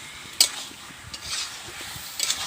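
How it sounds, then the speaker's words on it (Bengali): Chicken pieces and potatoes being sautéed together in a pan: a soft sizzle runs under brief stirring scrapes, with a sharp utensil clink near the start and another cluster near the end. "তো বন্ধুরা মাংস আলু কিন্তু একসাথে সুন্দরভাবে কষাবো"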